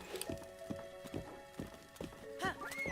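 A horse in the Breath of the Wild video game clip-clops along in a steady, even rhythm of hoofbeats, followed by a short whinny near the end, with quiet game music beneath.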